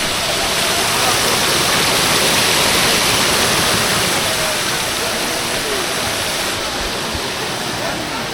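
Water flowing in a continuous, dense rush at Barda near Kileshwar Mahadev, loud and close, steady from start to finish.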